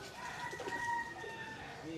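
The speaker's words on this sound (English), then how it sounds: "oh, lots of pigeons." Pigeons at a Balinese bird market coo and call faintly in a busy alley, soft bird sounds mixed with distant market chatter and background noise.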